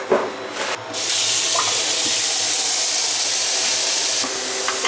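A tap is turned on and water gushes steadily into a commercial three-bay kitchen sink, a loud continuous splashing hiss after a few soft knocks.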